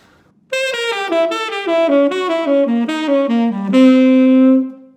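Electric guitar plays a descending diminished shred exercise that resolves as a dominant arpeggio, a run of quick, clean, evenly spaced notes stepping downward and ending on one long sustained note, close and alone.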